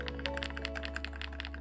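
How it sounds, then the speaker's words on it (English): Rapid typing on a mechanical keyboard's function row fitted with new switches and keycaps, a steady run of close, crisp clacks over a constant low hum, with no talking. "here are the new switches and new keycaps on the function row keys"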